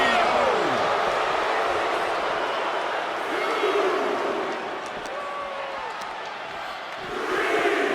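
A large arena crowd in the WWE 2K25 wrestling video game roars and cheers continuously, a dense wash of noise that swells at the start and end, with a commentator talking over it.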